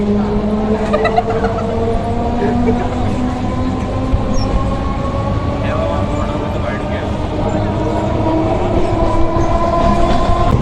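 Sealdah–Baruipur local train running along a curve, a loud steady rumble of wheels on rail with squealing flange tones and rhythmic clatter throughout.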